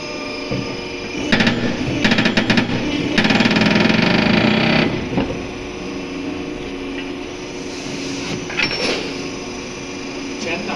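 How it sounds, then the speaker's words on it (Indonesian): A press machine whirs and grinds in loud bursts, removing an engine cylinder liner, with mechanical clanking and pressing noises coming and going in a workshop. "ini proses pencopotan boring pakai mesin press"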